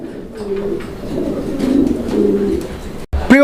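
Young pigeons at a farm giving soft, close coos and chirping calls that run in repeated bursts, ending with a short abrupt break and a louder call.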